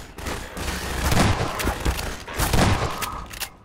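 Loud, dense bursts of SMG fire in a shooter game, rattling in quick volleys with booming impacts for a few seconds.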